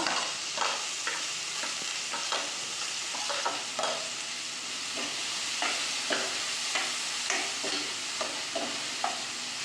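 Onion frying in a pan with cumin and garlic, a continuous bright sizzle broken by regular scraping stirs of a spatula, close and steady with no talking.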